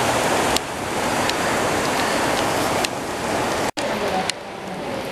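A river surges through a gorge in the Chuetsu area of Niigata, producing a loud, unbroken rushing roar with a few small knocks and one brief dropout, while a voice speaks softly underneath.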